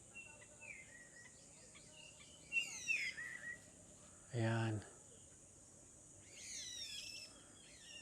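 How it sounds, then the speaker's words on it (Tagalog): Birds sing by Tikub Lake in short, faint chirping bursts over a steady insect hum, with a brief louder low call in the middle and a person speaking briefly. "ang sarap pakinggan ng mga huni ng ibon."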